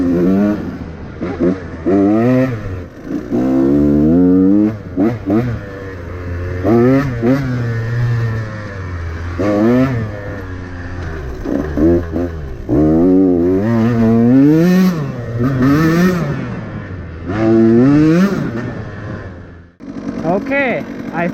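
A KTM 150 XCW two-stroke dirt bike with a Lectron carburetor revving hard in second gear on a trail test, its loud, raspy engine pitch rising and falling repeatedly in close, surging bursts.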